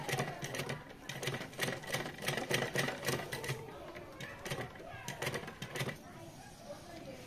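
A sewing machine stitches along a fabric edge in rapid bursts of needle chatter, starting and stopping several times, close and clear with a pause between runs.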